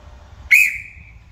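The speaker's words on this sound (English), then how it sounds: "the whistle signal is just one short blast" One short, sharp whistle blast given as a crane stop signal on a construction site, loud and close, rising abruptly and tailing off quickly over faint low background rumble.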